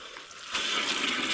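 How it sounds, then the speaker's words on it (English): Water gushes and trickles steadily from the opened low point drain under a travel trailer being winterized, a broad hissing flow that swells louder partway through and keeps running close by. "drain your hot water tank and open your low point drains first"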